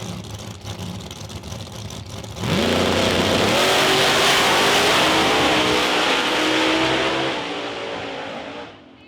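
A race car engine on its very first powered lap, running faint in the distance, then suddenly roaring loud and close with rising revs through the gears before fading as the car passes away.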